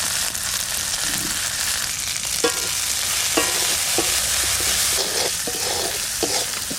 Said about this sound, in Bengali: ভাজা প্রায় হয়ে গেছে, আর একটু নাড়াচাড়া দেবো।